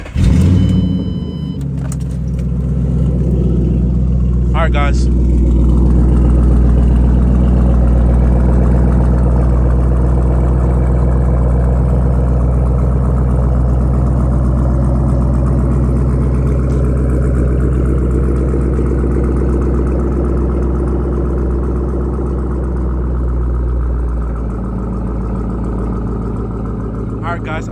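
A Ford Mustang S197 with the 3-valve V8 cranks and fires up, then settles into a loud, deep, rumbling idle that holds steady for the rest of the clip, with someone speaking briefly at the start.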